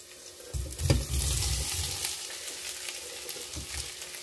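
Potatoes fry in a pan over onion already sautéed in garlic oil, giving a steady, moderate sizzle with a louder crackling burst near the start that then settles into a softer hiss.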